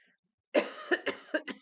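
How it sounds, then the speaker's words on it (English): A short burst of coughing, four or five rough coughs close to the microphone after a brief silence. "I had a little cough there."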